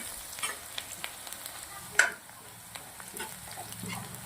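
Onion, chili, garlic and ginger fry in hot oil, giving a steady low sizzle with small crackling pops and one brief sharper clatter near the middle.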